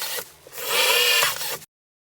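A screw being driven into a wooden drawer box with a power driver, one whirring burst of about a second with short grinding rubs before and after it, then silence.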